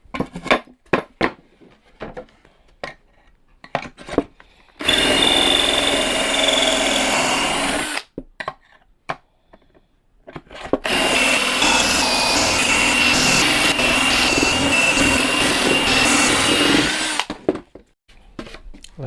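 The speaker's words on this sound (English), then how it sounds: "Okay, let's drill some holes." A power drill whirs loudly into wood while drilling pocket holes, in two long bursts separated by clicks, taps and short quiet gaps.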